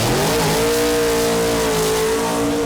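A drag racing car roars through a burnout at a 1998 Super Series meeting at Avon Park, its engine loud and sustained with a steady high-revving drone that bends slightly in pitch, close and continuous throughout.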